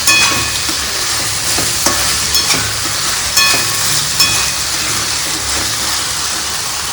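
Upma tempering with sugar and fresh coriander stirred in a hot pan, a steady bright sizzle of oil with scraping spoon strokes at irregular intervals, close and fairly loud, no voices.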